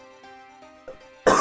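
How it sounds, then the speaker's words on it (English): Faint sustained tones hum quietly, then a sudden sharp cough cuts in loudly at the very end. "I'm still a bit coughing and stuff"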